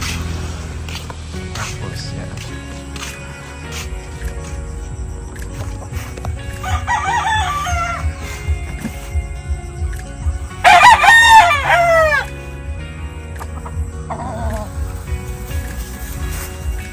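Gamefowl roosters, crosses of birds bought in Negros and kept at a breeding yard in Bohol, crow loudly several times with clucking between, while someone talks over the yard's background noise.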